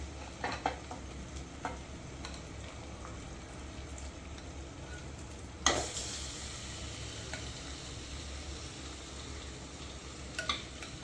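Chicken salna masala simmering on a low flame, a steady soft sizzle and bubbling with occasional spoon stirs and a brief louder scrape near the middle.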